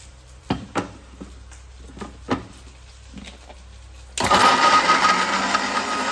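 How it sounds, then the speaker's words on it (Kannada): Kitchen mixer grinder churning coconut masala: a few sharp knocks and clatters, then the motor kicks in with a loud, steady high whirring grind that continues to the end. "ಇದು ಹುರಿಯೋದೊಳಗೆ ಮಿಕ್ಸಿ ರುಬ್ಕೊಳ್ಳೋಣ"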